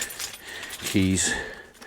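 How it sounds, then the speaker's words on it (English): Keys for a Claas Arion 470 demo tractor jangle briefly and close up, a short metallic rattle with a faint voice or hum underneath. "Keys."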